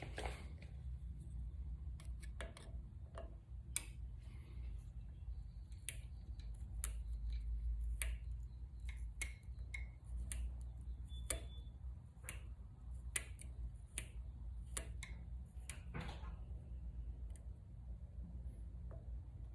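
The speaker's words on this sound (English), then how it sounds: "I'm going to turn the adjuster clockwise all the way in until I feel that slight resistance and it stops clicking." A dirt bike rear shock's clicker adjuster is turned by hand, giving a run of small, faint, dry clicks at an uneven pace over a quiet room, with no talking.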